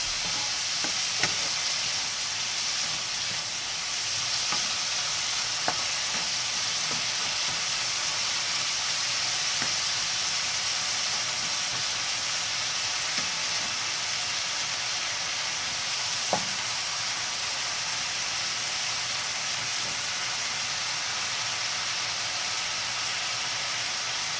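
Peas and carrots sizzle steadily in a hot pan for a quinoa dish, a constant bright frying hiss with occasional soft stirring clicks and scrapes, close and uninterrupted, no talking.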